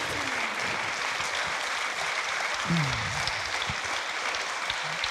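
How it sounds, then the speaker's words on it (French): Sustained applause from a sizable audience at the end of a talk, a dense, steady patter of clapping that continues without pause, with faint voices underneath. "on vous applaudit parce que c'était passionnant"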